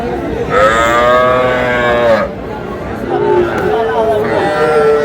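Young bull calves at a Faridpur cattle market moo loudly and up close in two long, drawn-out calls, with crowd chatter and other market noise underneath.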